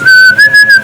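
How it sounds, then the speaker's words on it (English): One person whistles a brief, loud, clear tone held steady with small pitch shifts, broken into three quick pulses. "I'm going to be whistling as well"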